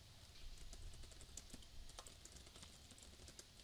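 Quiet, rapid clicking of keys on a computer keyboard as a website footer is typed, a steady patter of soft taps running throughout with no voices.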